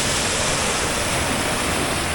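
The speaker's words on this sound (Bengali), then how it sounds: "এই হলো ঘাগড়া ফলস, দেখতেই পাচ্ছেন।" Ghagra Falls near Ghatshila, water pouring over a small dam, a loud, unbroken roar of rushing water heard up close.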